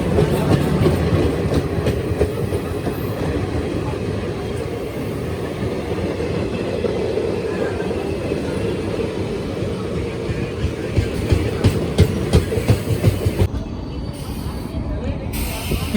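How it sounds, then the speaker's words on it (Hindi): At Moradabad Junction a passenger express pulls in as a goods train passes, a loud continuous rumble with rhythmic wheel clatter from close by that builds toward the end, with brief voices over it. "शीतल नगरी मुरादाबाद जंक्शन पर अराइविंग करती हुई और गुड्स ट्रेन निकलती हुई।"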